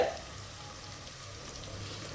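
A soft, steady sizzle of green chillies frying in hot oil continues throughout, quiet and close, with faint stirring.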